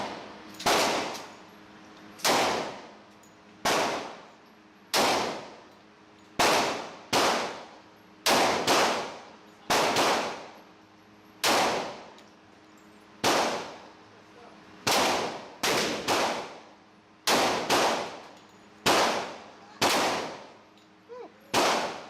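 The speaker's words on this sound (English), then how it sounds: "That's a lot of fun shooting a 10 millimeter 1911." A 10mm 1911 pistol fires at an outdoor range, roughly seventeen loud sharp reports with short ringing tails, arriving in an uneven rhythm of single shots and quick pairs, close to the listener.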